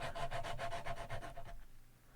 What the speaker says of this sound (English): So I'm sanding more on the top than I am down here.